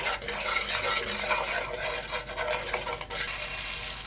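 Unwashed puffed rice is stirred in a pan of oil over a low flame, a dry, rasping scrape and rustle with a faint sizzle, continuous and close.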